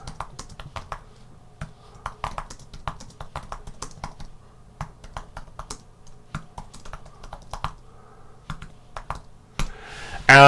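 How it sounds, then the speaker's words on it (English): Steady clicking keystrokes on a computer keyboard as a title and caption are typed, irregular bursts of close taps with brief pauses, ending in a short louder sound. "I will type in a basic title and caption"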